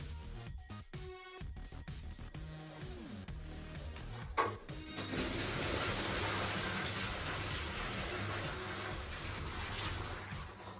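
After some clattering and handling, water pours out of a Frigidaire 50-litre dehumidifier bucket in a steady, splashing gush that continues for several seconds.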